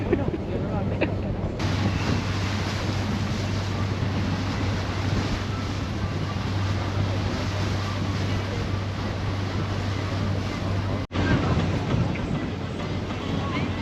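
Steady rushing wind and water noise from a moving boat heading into harbor at Benidorm Island, with waves and engine rumble throughout and no talking.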